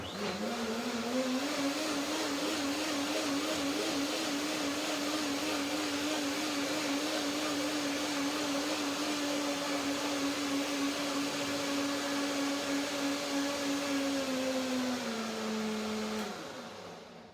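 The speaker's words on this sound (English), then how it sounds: "Finally, the blender sounds as should end. It's a nice even sound, and that means it's done." A blender whirs at a steady, even pitch for several seconds, then winds down at the end.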